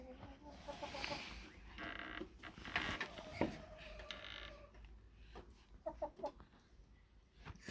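Chickens cluck and murmur nearby in short irregular bursts, with some rustling and creaky sounds mixed in; no one speaks.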